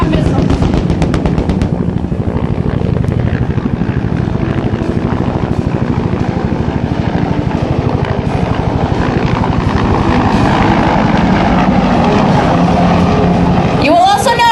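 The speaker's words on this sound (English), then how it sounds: "This twin-piloted helicopter is used for resupply, small unit insertions and extractions, casualty evacuations" AH-1W Cobra and UH-1 Huey military helicopters fly at a Marine Corps air station airshow demonstration, loud pulsing rotor thump and turbine roar throughout, with bursts like simulated gunfire and a faint announcer voice.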